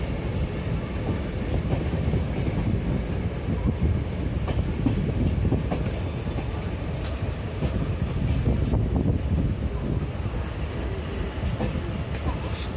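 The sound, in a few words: train at Ernakulam railway junction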